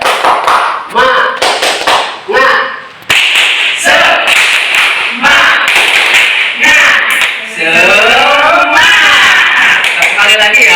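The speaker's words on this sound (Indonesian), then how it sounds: "Kita tepuk semangat ya." A group of teachers at a school training session perform a rhythmic clapping chant, sharp claps in patterned bursts alternating with loud voices chanting in unison, close and energetic, ending in sustained group shouting.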